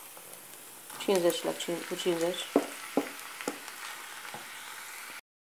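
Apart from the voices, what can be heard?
meat frying in pan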